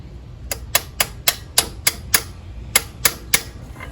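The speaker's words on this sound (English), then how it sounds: "I'm going to use the butt of the screwdriver to push it in further. Maybe even give it a couple of taps." Screwdriver butt tapping a pulled-out dipstick tube back into a Honda CR-V engine: ten sharp, evenly spaced knocks, close and crisp, with no talk.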